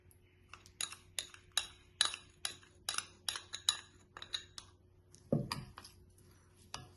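A spoon mixes dark chocolate mixture in a bowl, giving a quiet, rhythmic run of sharp clinks and taps against the bowl at roughly half-second intervals, close and isolated, with a brief thud near the end.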